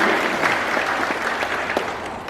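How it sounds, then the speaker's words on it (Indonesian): Audience at a farewell-and-welcome ceremony for the outgoing NTT governor and vice governor claps steadily throughout, a dense, even wash of applause from a crowd with no voices standing out. "Tepuk tangan dan juga aplaus"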